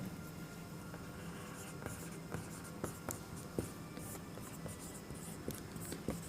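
Chalk or marker writes on a board during a chemistry lesson, producing steady scratching strokes with small taps throughout, close and fairly quiet over a low room hum, with no talking.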